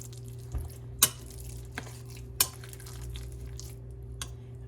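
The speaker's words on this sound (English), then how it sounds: "And we will stir again." A utensil stirs a chicken meatball mixture with oil for Mediterranean pitas, giving a few sharp scraping clicks against the bowl over a quiet steady hum.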